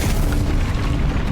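A Confringo fire-blast spell from Hogwarts Legacy goes off as a loud, sustained booming rumble with a low-heavy blast that fills the whole moment, close and dense with no voice over it.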